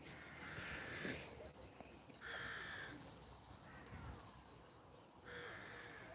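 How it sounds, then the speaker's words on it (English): Birds call in a park, with repeated harsh crow-like caws coming in several spaced bursts over a quiet outdoor background. "take in the lovely, beautiful bird sound to relax you on a Sunday"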